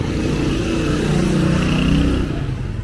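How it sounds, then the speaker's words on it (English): Continuous traffic rumble of cars and motorcycles on a busy road in Angeles City, with engines droning and revving nearby as vehicles pass, loud and steady throughout. "Many cars or motorcycles in this road. So noisy place, very noisy."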